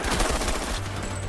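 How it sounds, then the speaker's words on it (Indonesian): Heavy gunfire in a battlefield firefight from the Korean War film 71: Into the Fire, a dense loud burst of overlapping rapid shots with a low rumbling tail. "Dan baku tembak pun terjadi."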